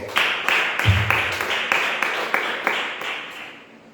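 Congregation applauding in a church, a steady run of rhythmic group claps with evenly spaced beats, fairly loud and close, fading a little toward the end.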